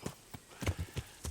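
Horse hooves clip-clop in the video game Kingdom Come: Deliverance, a slow uneven run of soft close thuds at a walking pace, fairly quiet and without voices.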